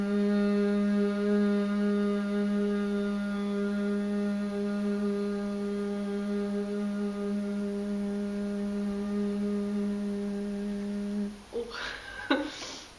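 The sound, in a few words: singing warm-up humming with vibrating lips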